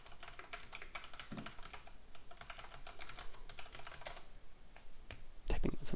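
Steady rapid clatter of keys on a computer keyboard as git commands are typed, a continuous run of close, crisp taps with a brief louder knock near the end.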